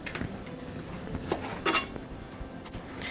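A knife slicing Portuguese sausage into bite-size pieces on a cutting board, with soft irregular taps and a couple of sharper clinks against quiet kitchen background.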